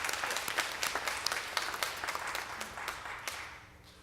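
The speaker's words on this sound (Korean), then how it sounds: "우리 박수 한번 보내주시죠" Church congregation applauding the media team during a service, a broad wash of clapping that starts full and gradually thins out, heard somewhat distant in a reverberant hall with no speech.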